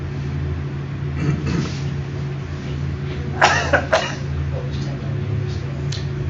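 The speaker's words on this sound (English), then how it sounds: "I have acquired a cough since I was here last." A few harsh coughs, nearby and loud, bursting out over a low steady rumble of engine-like background hum.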